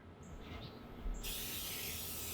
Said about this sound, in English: So I'm gonna spray it all down, including the door.